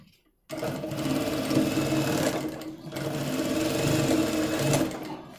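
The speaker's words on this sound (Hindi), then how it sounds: "पहले इसको हम एक बार एक सिलाई लगा लेंगे।" Sewing machine stitches salwar fabric in a continuous fast whirring run, close and steady, with one brief pause midway.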